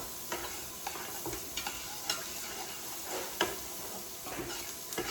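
Onions sautéing in a soup pot, a faint, steady sizzle with occasional soft taps and scrapes of stirring.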